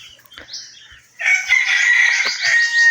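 Red junglefowl rooster crowing close by, a short faint call first, then a loud, drawn-out cock-a-doodle-doo filling the rest.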